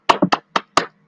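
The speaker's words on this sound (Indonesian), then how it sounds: "Tepuk tangan untuk Rafiki." Five sharp, close hand claps in a classroom, delivered in a quick uneven rhythm within about a second, loud and distinct with silence between them.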